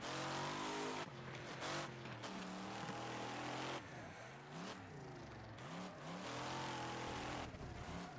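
Modded cars drifting in the Wreckfest racing video game, engines roaring and revving continuously with rising and falling pitch, tires squealing through slides, loud and sustained throughout.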